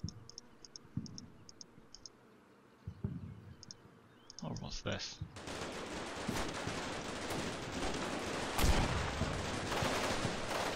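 Artillery spotting round landing in the war game Combat Mission Shock Force 2, a loud burst of blast and gunfire-like crackle after a stretch of sparse clicks and ticks, with a sharp heavy hit near the end.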